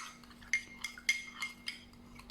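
Spoon clinking against a bowl while stirring gelatin dessert mix in water, a series of light, irregular taps close up in a quiet room.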